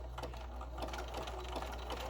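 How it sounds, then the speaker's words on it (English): A home sewing machine runs a continuous zigzag stitch around the edge of a quilted potholder made from an old towel, its steady rapid chatter close and unbroken. "go to the sewing machine, set it for a zigzag stitch, and zigzag around the outside of the pot holder."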